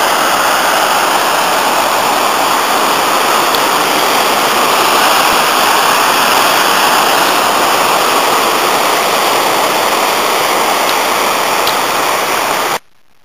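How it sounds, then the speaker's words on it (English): A tumbling mountain waterfall at Llyn Idwal, swollen after rain, roars loud and close as an unbroken wash of rushing water that cuts off abruptly at the end. "here's a nice tumbling waterfall"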